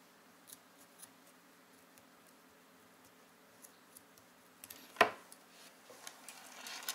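Scissors trim paracord, a single sharp snip standing out against quiet handling noise and a few light clicks and taps around it.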